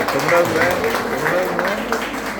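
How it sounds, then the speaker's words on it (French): Audience applause during a university teacher's talk on diabetes, a steady wash of clapping with a voice speaking over it, moderately loud and continuous. "Applaudissez pour ça aussi"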